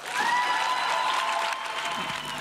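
Audience applause at a science slam evening in Germany, greeting the second team on stage; steady dense clapping fills the short stretch, fairly loud and without talk.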